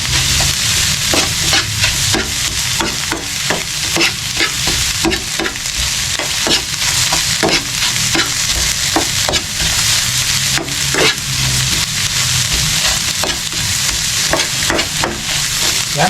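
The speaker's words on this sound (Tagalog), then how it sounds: "Lutuin ko lang. Itlog na lang naman ang lulutuin ito." Eggs fry in a pan with a loud, continuous sizzle, punctuated by steady scraping and stirring strokes throughout, no voices.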